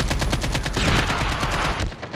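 Rapid automatic gunfire from an AK-47 in the mobile shooter Call of Duty Mobile: a loud, steady stream of close shots in quick rhythm, swelling into a denser burst before cutting off abruptly.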